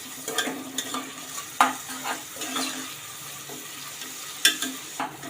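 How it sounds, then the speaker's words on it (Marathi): Chopped onion dropped into hot oil with cumin seeds for a Maharashtrian val khichdi, crackling and sizzling close by with scattered stirring scrapes and a few sharper clatters, no voices. "यामध्ये आपण कांदा घालूया कांदा हलका गरम करून घ्यायचा आहे"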